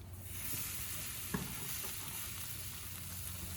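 Steady hiss of meat frying and crisping with seasoning in a pan, with a brief clink partway through, close and continuous, no talking.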